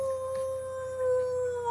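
A person imitates a wolf howl with the voice, a single sustained steady tone held for almost two seconds that bends at the end, close and fairly loud with no other sound.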